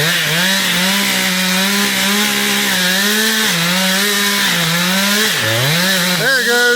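Chainsaw cutting through a large oak during tree felling, a loud, close, steady engine whine whose pitch dips and rises as the bar bites, running without pause and with no talk.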